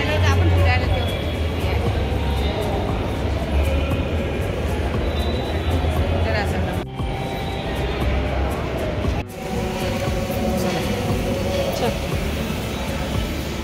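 A metro train rumbles loudly and steadily throughout, with a deep low drone and rattling wheel noise, briefly dipping twice as it runs; voices murmur faintly beneath the din.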